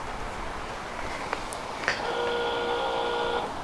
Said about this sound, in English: the motor is running its full sequence